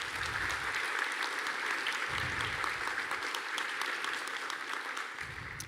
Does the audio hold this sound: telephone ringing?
no